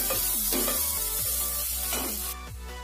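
Grated coconut and dry red chillies frying in a pan, a steady close sizzle with a few spatula scrapes and stirs over nearly three seconds, no talking.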